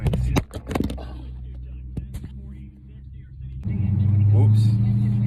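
A powerful car surges forward, its engine swelling into a loud, low rising roar after a few quieter moments and bumps heard from inside the cabin, with someone talking beforehand.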